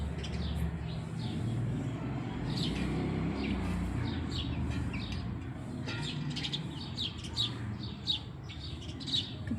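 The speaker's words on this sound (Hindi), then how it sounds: "कितनी चिड़िया हैं।" Many small birds chirp and tweet in quick, scattered bursts over a steady low background rumble, the calls moderately near and fairly faint, with no talking.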